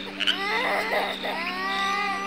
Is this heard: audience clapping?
no